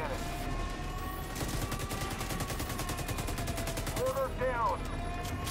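Rapid autocannon fire in The Division 2 during a raid, a steady fast train of loud mechanical shots over several seconds with electronic game tones layered on top.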